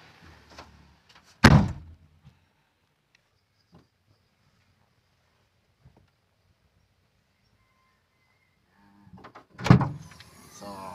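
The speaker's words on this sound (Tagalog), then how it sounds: "sara natin yung pinto" A Suzuki Celerio car door shuts twice, each a solid, close thud with a short rattle, about eight seconds apart and separated by near silence.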